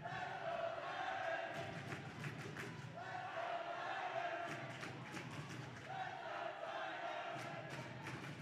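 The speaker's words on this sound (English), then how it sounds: "Listen to this crowd." A packed crowd roars and cheers during the fifth set of a volleyball championship match between Bishop Tonnos and Dunbarton, a dense sustained wash of voices with shouts and thumps, heard at a distance throughout.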